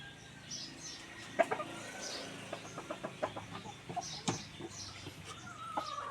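Soft, scattered clucking from a young Burmese fighting rooster, a series of short, quiet calls spaced irregularly over a faint background.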